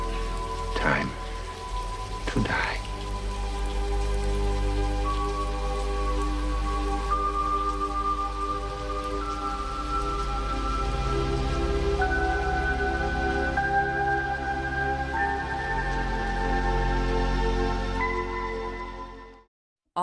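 Steady rain falls throughout a Blade Runner film scene, a continuous hiss under layered sustained synthesizer tones, with a couple of brief sharp accents early on before the sound cuts to silence at the end.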